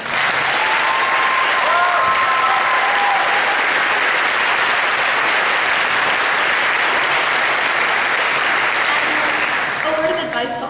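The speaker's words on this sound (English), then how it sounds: "Let's give them another round of applause." A graduation audience gives a sustained round of applause for the class of 2011. Thick, even clapping fills the room for the whole stretch without pause, loud and close.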